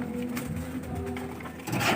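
Soft, low pigeon coos murmur close by in a quiet loft, with a brief rustle near the end.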